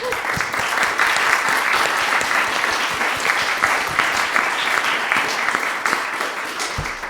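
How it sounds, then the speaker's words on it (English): Sustained applause from an audience at a panel conversation on wealth, with many hands clapping in a steady, full roar that holds evenly from start to finish and tapers slightly at the end. "Round of applause for everybody."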